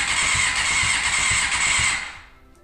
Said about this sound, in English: we'll actually crank this engine over for once. There's no fuel or anything in, so I know it's not going to start